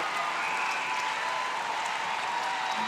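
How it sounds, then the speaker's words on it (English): A crowd cheers and applauds at a netball World Cup match between Australia and Zimbabwe, a steady, dense roar of many voices spread evenly and held at a constant level from start to end. "So, a big cheer."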